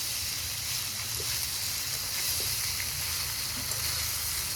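Ginger-garlic-onion paste with green chillies frying in a wok with jackfruit and potato, a steady, close sizzling hiss with occasional faint pops and no talking.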